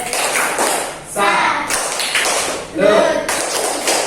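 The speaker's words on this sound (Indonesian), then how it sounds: "kita kasih tepuk salut buat kelompok 2" Pupils in a classroom perform a rhythmic group clap of the "tepuk salut" cheer, with bursts of clapping in patterned beats broken by short gaps and mixed with voices chanting along.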